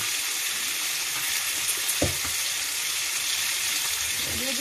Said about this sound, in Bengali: মশলাগুলো দিয়ে ভালো করে একটু ভেজে নেব।